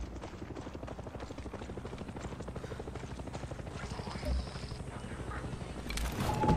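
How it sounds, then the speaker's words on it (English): A helicopter's rotor in the video game Far Cry 6 chops steadily with a rhythmic thumping drone, close and continuous, with a brief mechanical noise near the end. "Helicopter coming back, it sure is"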